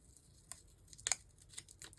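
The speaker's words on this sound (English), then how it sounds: "Let's cut the washi." Scissors cutting washi tape for a creative planner journal: a few soft, crisp snips and crinkles, with the sharpest cut near the middle, close and quiet against a still room.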